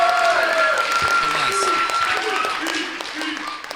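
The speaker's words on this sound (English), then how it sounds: "can we give one more round of applause to Caroline?" Wedding guests applaud for Caroline at a best man speech, a steady wash of clapping filling the room, with voices talking over it and fading slightly toward the end.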